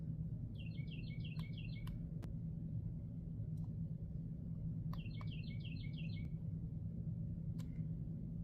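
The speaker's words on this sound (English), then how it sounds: "Oh, that bird sounds so pleasant." Songbirds in a backyard give two short trilled phrases a few seconds apart, fairly faint over a steady low rumble of distant traffic, with a few sharp clicks between them.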